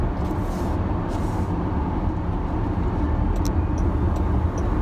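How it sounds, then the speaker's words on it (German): A Jaguar I-Pace electric car accelerating on the road, heard from inside as a steady, loud low rumble of road and motor noise that holds even throughout, with no talking. "So, das war die Beschleunigung"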